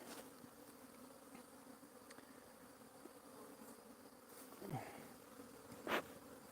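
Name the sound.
honeybees buzzing at beehives during inspection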